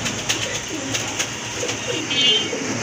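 Low, soft cooing of red Rajgolla pigeons rolls on steadily under a constant background hiss, with a few faint clicks and no voices.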